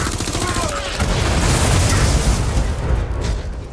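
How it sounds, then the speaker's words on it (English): A loud, sustained explosion in Watch Dogs: Legion, a heavy broadband boom with rumbling debris and crackling bursts rolling on for several seconds after a short lead-in, with talk faintly present underneath. "Who wants to see something explode?"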